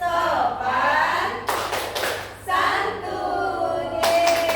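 Rhythmic group hand clapping of the Indonesian 5S clap chant, several bursts of claps in a patterned beat with voices mixed in during a teachers' positive-culture session.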